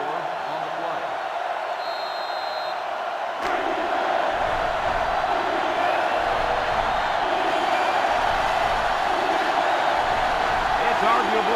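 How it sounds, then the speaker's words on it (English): Steady, loud roar of a packed stadium crowd in the NCAA Football 2005 video game, with Notre Dame playing LSU, swelling slightly after a few seconds into a sustained wall of cheering. "It's arguably the loudest crowd in the nation, and they are turning it up a notch"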